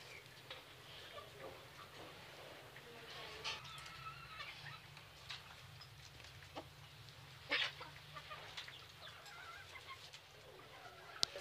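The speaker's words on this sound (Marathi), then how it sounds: "बऱ्याचशा गावरान कोंबड्या आहेत विविध रंगाच्या" Free-range country hens of various colours clucking softly now and then over a quiet outdoor background, with a few brief louder calls and faint distant voices.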